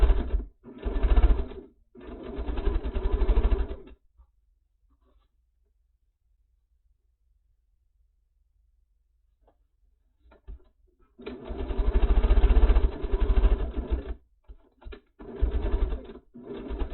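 A sewing machine stitching quilt pieces for a Dutchman's Puzzle scrap basket block, running in loud bursts of rapid mechanical whirring, a long silent pause, then more bursts with short stops between them.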